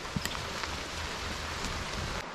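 Steady rain falling outdoors, a continuous dense hiss at moderate loudness with a few sharper drip taps near the start.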